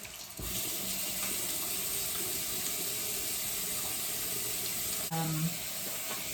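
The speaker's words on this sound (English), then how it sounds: "I add a little bit of water." A tap runs water into a bathroom sink during a night skincare routine, a steady close hiss and splash lasting throughout, with a brief tonal squeak near the end.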